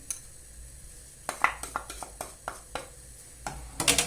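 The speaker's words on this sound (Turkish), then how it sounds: "Şimdi güzelce arkadaşlar bunların hepsini böyle karıştıralım." Kitchen utensil clacking and scraping against a bowl while chicken fajita ingredients are stirred together, a series of short, irregular knocks after a quiet start, ending in a brief clatter.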